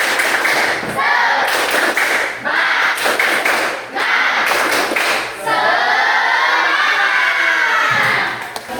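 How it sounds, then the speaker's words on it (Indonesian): A class of schoolchildren performs a rhythmic 'tepuk semangat' clapping chant as an ice-breaker, loud and close, with bursts of claps and shouted chanting voices throughout. "Ice breakingnya, tepuk semangat."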